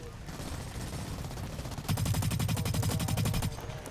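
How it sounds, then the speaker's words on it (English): A light machine gun fires in the video game Blacklight: Retribution, a rapid, sustained burst of evenly spaced shots that starts partway through, following a stretch of ambient game noise. "I picked up a light machine gun."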